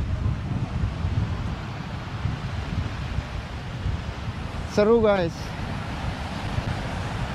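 Wind and surf at Jimbaran beach in Bali wash steadily close to the microphone, a continuous rushing roar with a brief voice speaking over it midway.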